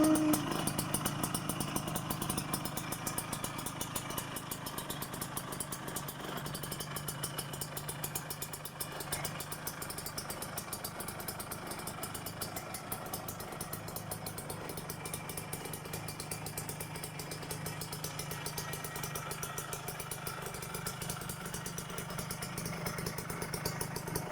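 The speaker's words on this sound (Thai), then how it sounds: "ดังลูกปืนบาลามันนะครับ" A Honda Nova Dash motorcycle engine with a noisy bearing idles steadily and close for a long stretch, its even mechanical rattle and clatter continuous, with no talking.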